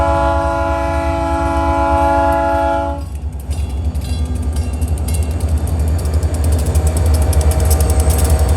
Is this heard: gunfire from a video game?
no